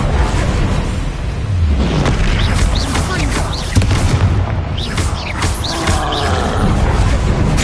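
Bombarda and Confringo spell explosions in Hogwarts Legacy, loud continuous booming blasts and crashing debris with mechanical creaks, dense and close, under intermittent spoken spell calls.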